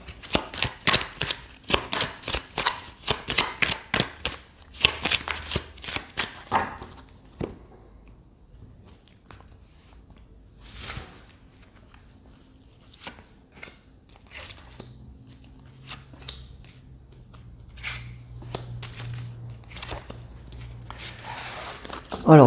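Rapid papery riffling and slapping as tarot cards are shuffled, a dense rhythmic burst up close, then scattered soft flicks and slides as cards are drawn. A low hum runs underneath and a voice is heard at moments.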